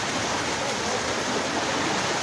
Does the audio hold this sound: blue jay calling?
no